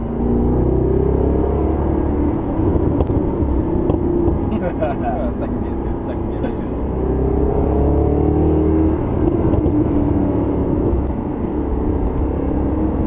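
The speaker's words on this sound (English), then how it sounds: "I always play with the crackle in this car" A Mercedes-Benz SLS AMG Roadster engine rumbles loudly and steadily with a deep exhaust drone and brief crackles, while a voice speaks over it.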